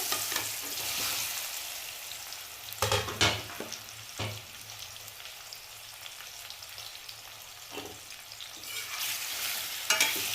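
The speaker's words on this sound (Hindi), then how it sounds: "अब डाल देते हैं यहाँ पे केरी तेल के अंदर।" Raw mango pieces frying in hot oil with ginger and crushed coriander seed, a steady sizzle broken by a few sharp stirring scrapes and louder spatters, close and moderately quiet.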